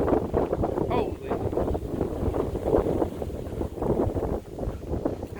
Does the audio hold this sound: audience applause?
no